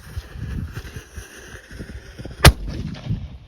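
A single firework blast bursts sharply out of steady outdoor background noise and leaves a low, rolling rumble trailing behind it, fairly close and loud.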